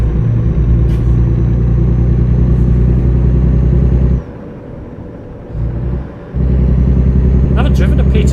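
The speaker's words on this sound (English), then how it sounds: "This Peterbilt sounds violent." A Peterbilt truck engine in American Truck Simulator rumbles deep and loud up close, dropping briefly as the revs fall before surging back.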